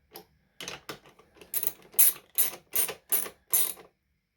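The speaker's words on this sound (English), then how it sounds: "Click. These are torqued." A torque wrench clicks again and again while bolts are tightened on a Briggs and Stratton snowblower, giving a series of sharp, close mechanical clicks that start light and then land louder and evenly spaced.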